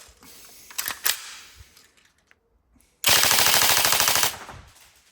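A Tokyo Marui MK46 airsoft gun fitted with a Ronin 45K motor fires one loud, rapid full-auto burst lasting about a second, with a few quieter mechanical clicks and handling noises before it.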